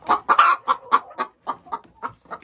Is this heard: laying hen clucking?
yes